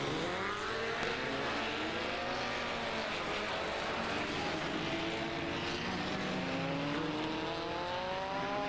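Formula Vee race cars buzzing past on a 1991 practice session, a loud continuous engine drone with rising and falling pitch sweeps as several cars pass close by.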